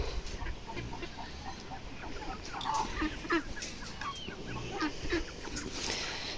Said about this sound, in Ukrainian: Ну курі хай вже ходять, вже їх заганяти не буду.